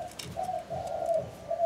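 A Phu Yen ground dove coos in a steady repeated rhythm, its low hollow notes close and clear with no voices around it.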